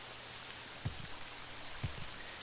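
Quiet, steady rain hisses in The Elder Scrolls III: Morrowind, broken by two soft, low, paired thumps.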